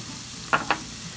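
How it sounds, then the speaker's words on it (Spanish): Vegetables frying in a preheated pan with a little oil, seasoned with salt and Worcestershire sauce, give a soft steady sizzle broken by two short, sharp stirring scrapes close by, with no voices. "sartén precalentado, ya con un poquito de aceite, voy a agregar las verduras"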